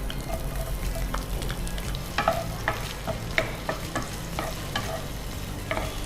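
Onions frying in a pan for a soya chunks gravy, with steady sizzle and repeated scraping stir strokes throughout, no talking.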